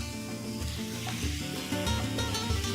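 A fresh batch of paprika-seasoned beef pieces sizzles in a hot oiled pan, a steady close crackle with intermittent stirring scrapes and no voices.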